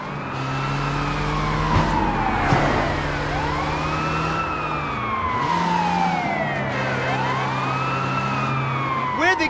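Police car siren in Sleeping Dogs, a continuous wailing tone sweeping up and down in repeated cycles over engine and traffic noise, with people talking over it.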